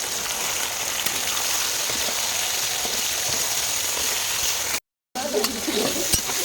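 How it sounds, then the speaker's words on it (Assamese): Marinated fish frying in hot oil in a restaurant kitchen, a loud, steady sizzle that fills the whole stretch with a brief gap near the end. "মেৰিনাট ৰাখি থৈছিলোঁ ন এইয়া ভাজিবলৈ"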